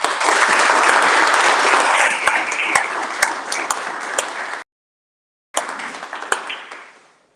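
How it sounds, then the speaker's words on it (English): Sustained applause from a large audience at a United Way annual board meeting, loud and dense for several seconds, cutting off briefly and resuming more thinly before fading out. "A round of applause for the Tocqueville Society."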